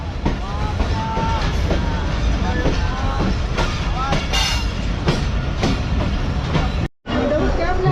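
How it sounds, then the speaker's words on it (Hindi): Karachi Express pulling out of Nawabshah railway station, a loud continuous rumble of rolling wagons with rhythmic wheel clatter and faint squeals, broken by one brief dropout near the end. "तो तकरीबन 3 मिनट रुकने के बाद हमारी ट्रेन जो है डिपार्ट कर रही है नवाबशाह रेलवे स्टेशन से।"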